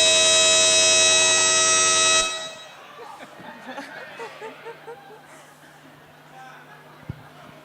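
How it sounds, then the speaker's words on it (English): Sonified radio signal of a pulsar spinning 645 times a second plays as a steady, loud, high-pitched buzzing drone for about two seconds and then stops abruptly, followed by audience murmuring and light laughter. "So that was the sound of a pulsar spinning 645 times a second"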